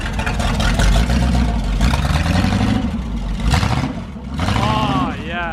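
A 440 big-block V8 in a Plymouth Cuda, a wrecked former drag car being rebuilt, revs loudly and steadily under the throttle at close range, with people talking over it.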